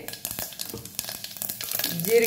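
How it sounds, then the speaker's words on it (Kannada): Sharp, scattered pops and crackles of seeds spluttering in hot oil, growing busier toward the end over a steady sizzle. "ಸಾಸಿವೆ ಚಿಟಿಪಿಟಿ ಅಂದಮೇಲೆ ಜೀರಿಗೆ"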